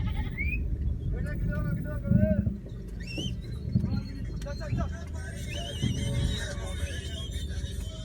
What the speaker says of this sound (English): Goats in the city. There must be more than 100, I tell you.